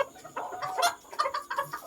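A bantam chicken in Khon Kaen, Thailand, clucks close by in a quick run of short, throaty notes with small pauses between them.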